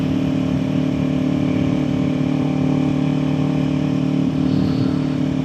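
A motorcycle engine hums steadily at cruising speed on a scenic drive, with loud continuous engine drone and wind noise throughout and no pauses.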